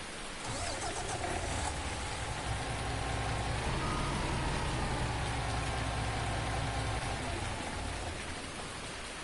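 A truck's steady electronic reversing beep in Farming Simulator 19 repeats over a heavy, constant engine rumble and the patter of rain, continuous throughout.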